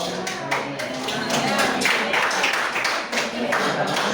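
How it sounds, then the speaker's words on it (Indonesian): Hands clapping in applause at a school supervision session, a steady dense patter of claps filling the space, fairly loud and sustained throughout. "Tepuk tangan untuk perlawanan dulu"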